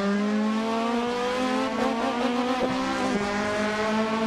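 Race car engine in Assetto Corsa revving hard, its steady rising harmonic whine climbing and shifting through gears, loud and continuous with faint tire noise and no talk.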